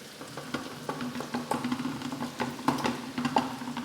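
An omelette sizzles and spatters in a pan, a soft steady crackle with small pops and a faint underlying hum.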